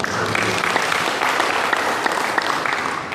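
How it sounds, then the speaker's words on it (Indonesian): Applause from an audience at a community development planning meeting (Musrenbang) in Tidar Selatan, a steady, dense clapping from many hands filling the room for a few seconds. "Aplaus untuk kita semua."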